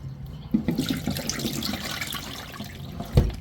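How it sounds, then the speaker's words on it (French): Plantains rinsed under cold running tap water at a kitchen sink, a continuous rushing splash with a few sharper knocks and a louder splash near the end. "On lave bien les plantains avec de l'eau bien froide"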